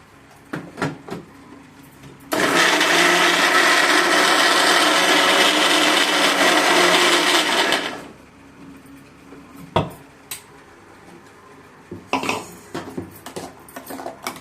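A mixer grinder whirs loudly for about five seconds as it blends green chillies and tomatoes into a chutney, framed by clinks and knocks of the jar and lid before and after.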